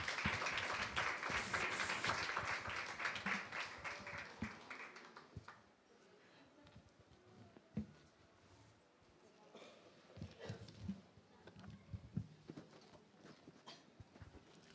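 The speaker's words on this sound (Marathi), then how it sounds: "टाळ्या वाजूयात, आपल्या प्रभूला धन्यवाद देऊया." Church congregation at a Sunday sermon clapping together, a dense rhythmic burst of many hands for about five seconds that fades into scattered claps and murmuring voices.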